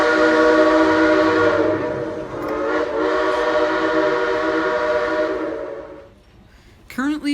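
Steam locomotive 504 sounds its new Bentley Fortune whistle in one loud, close, sustained chime-like blast of about six seconds that wavers slightly before cutting off, followed by a brief burst of other noise.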